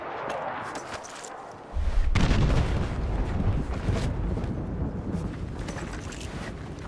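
Heavy booming airstrike blasts in a military shooter game erupt suddenly after a quieter stretch, then roll on as a loud, sustained rumbling wash of explosions and debris with no voices.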